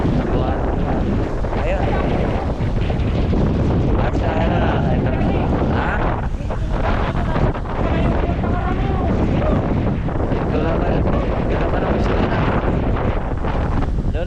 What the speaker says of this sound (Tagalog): Ay lalong lumakas ang hangin.